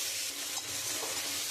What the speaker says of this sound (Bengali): এবার আমি মশলা দিয়ে আমি একটুখানি খুব ভালো করে কষাবো।